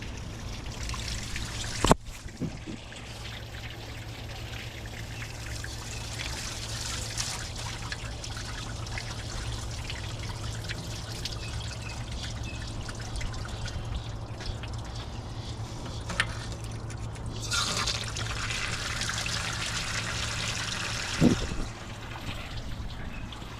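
Rusty water trickles and drains steadily from a forklift after its cooling passages were blown out, a continuous close liquid dribble with a low hum beneath and a couple of sharp knocks.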